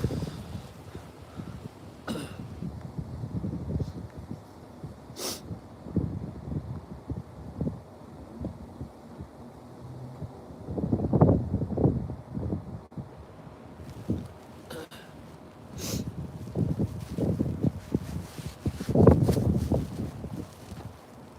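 Gusty wind blowing outdoors beside a Northstar commuter rail line, a steady low rumble that swells into louder buffeting gusts around the middle and near the end, with no voices.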